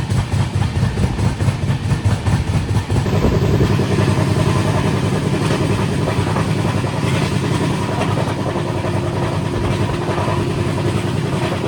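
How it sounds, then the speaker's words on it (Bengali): Passenger train rolling on the rails toward Krishnanagar Junction, heard from inside the carriage as a loud, continuous rumble with a rhythmic clatter at the start, no talk. "দেখো আমি এই মুহূর্তে রয়েছি ট্রেনে"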